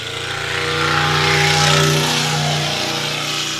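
An off-road race vehicle, piloted by Johnny Valadez, roars past the start-finish line at the Big Sky 200 in Broadview, Montana: a loud engine swells as it nears, peaks, then pitches down and fades slightly as it passes.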